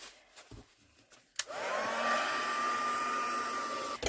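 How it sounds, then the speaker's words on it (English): A heat gun dries a first layer of paint on a Christmas mixed media craft tag: a few quiet handling taps, then a click and a sudden steady blowing whine that holds close and loud until it cuts off. "I'm just going to put on my heat gun and I'm just going to dry off this first layer of colour."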